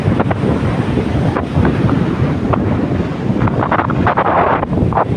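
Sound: strong wind at the Pattani seaside

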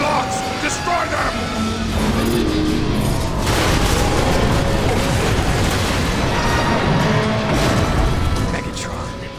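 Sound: gunfire and explosions on emergency locks in Transformers War for Cybertron video game

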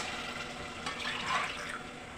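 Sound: water being poured into a pot for rice

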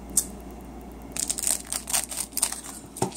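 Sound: scissors cutting open packaging

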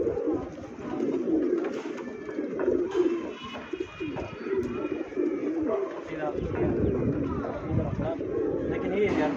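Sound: pigeons cooing

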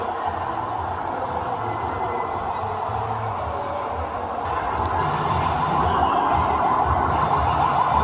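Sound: fire engine siren at children's play city

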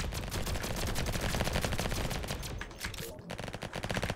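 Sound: raygun rapid firing in Roblox Flag Wars video game

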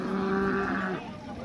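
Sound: cow mooing at cattle market

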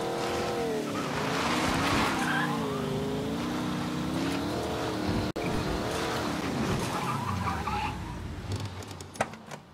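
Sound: car pulling over with tire skid, Mafia 3 video game

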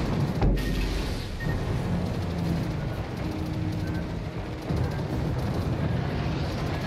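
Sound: AA guns firing in World of Warships video game

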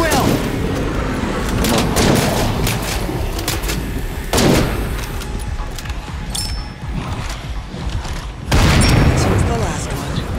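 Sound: gunfire in State of Decay 2 video game

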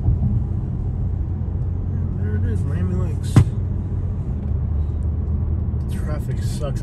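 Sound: road traffic heard from a car near Miami Lakes

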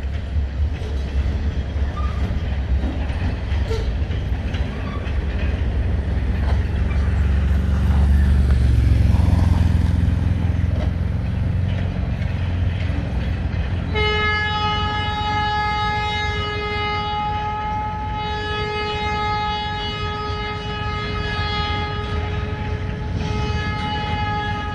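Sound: freight train with horn carrying pulpwood

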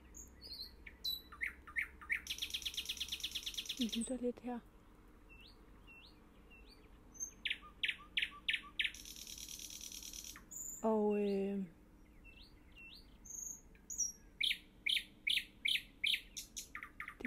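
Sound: nightingale singing at night in a tree

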